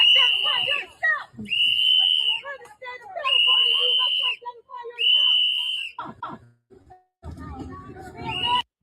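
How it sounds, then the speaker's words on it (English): A whistle is blown five times in repeated long piercing blasts, each roughly a second, with talk and crowd noise between them. "they blowing the whistle"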